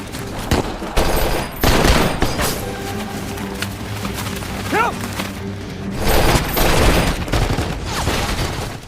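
Dense gunfire and explosive booms from a battle scene in an action film, loud and close, with rapid bursts and heavy impacts layered under music and a brief rising whistle.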